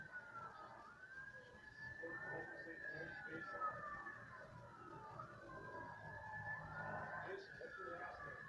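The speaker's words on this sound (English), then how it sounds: "I'm hearing sirens" Sirens from emergency vehicles rise and fall in long, sweeping wails, distant and faint, under steady talk inside the 1879 jailhouse in Galien, Michigan.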